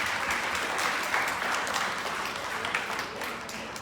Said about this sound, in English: Round of applause for NWS.